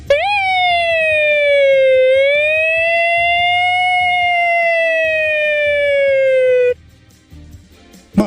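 A man imitates an emergency siren with his voice, holding one loud, sustained wailing tone that rises and falls gently for almost seven seconds before breaking off abruptly.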